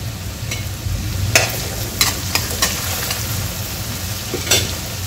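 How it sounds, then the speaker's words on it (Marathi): Chopped onion frying in a pan until brown, a steady close sizzle with a few sharp scraping clicks from stirring scattered through, no voices. "इथे आता आपला कांदा छान ब्राऊन होतपर्यंत होऊ द्यायचा आहे"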